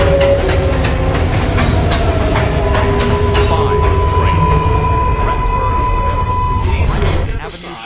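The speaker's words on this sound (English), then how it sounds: "This is a Manhattan-bound 4 express train." A Manhattan-bound New York City subway 4 express train running loud and close, with a continuous rumble, rhythmic wheel clatter and a sustained tonal whine that fades near the end.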